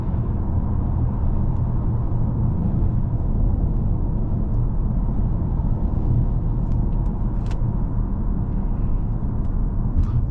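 A 2019 Toyota Camry XSE cruising in eco mode gives a steady low road and engine rumble from inside the cabin, smooth and unbroken, with no talking.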